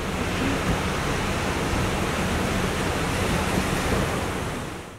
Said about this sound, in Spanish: Cauces en la zona metropolitana, como el río Santa Catarina y el arroyo Topo Chico, mostraron imponentes corrientes.